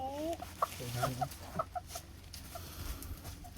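A chicken clucks several times in short, uneven bursts, close by, against a faint background hum.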